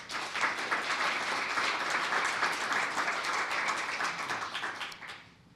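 An audience at a mental health town hall applauds Dr. Morgan, a steady dense clapping that holds strong for about five seconds before tapering off near the end.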